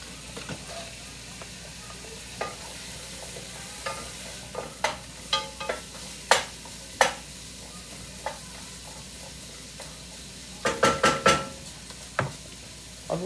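Leftovers sauté in a pan with a soft, continuous sizzle, punctuated by a series of sharp clinks and scrapes as a utensil stirs, growing busier toward the end.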